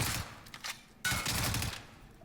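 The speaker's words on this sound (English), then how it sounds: "He just walked into this guy's gunfire." Bursts of automatic gunfire in a Call of Duty match: a short volley, a pause, then a denser sustained burst, loud and close.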